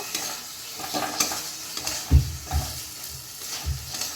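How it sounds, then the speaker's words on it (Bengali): Chicken liver is stir-fried dry in a pan, a continuous crackling sizzle with a spatula scraping and several dull thuds against the pan, close and moderately loud, with no speech. "এবার আমি ভালো করে কষিয়ে নেব"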